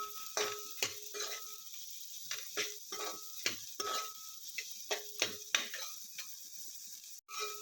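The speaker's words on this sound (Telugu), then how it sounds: "ఉల్లిపాయలు చింతపండు కూడా ఫ్రై చేసుకుందాం." A spoon stirs onions and tamarind frying in a pan for a spinach chutney, giving repeated metallic scrapes and clinks at an uneven rhythm over a faint, low sizzle, heard close.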